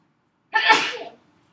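A single sharp sneeze bursts out close to the microphone, loud and brief, with silence before and after.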